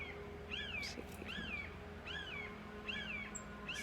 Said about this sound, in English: Can you hear the hawk in the background?